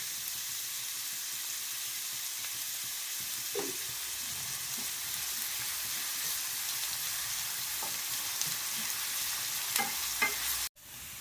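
Sliced onions sautéing with salt in a pan for squid roast, a soft continuous sizzle with occasional stirring clinks, close and fairly quiet, ending in a sudden brief cutoff.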